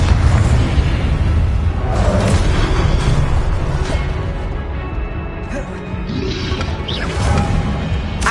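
Confringo spell explosions in Hogwarts Legacy on PS5: repeated booming fiery blasts and bursts in a dense, continuous game soundscape, loud and close throughout.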